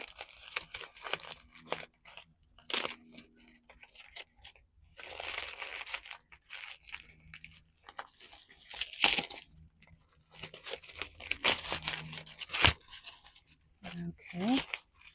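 A package holding a hand-knitted elephant toy is opened by hand, with repeated crinkling and tearing of plastic wrapping in bursts, close by, broken up by pauses.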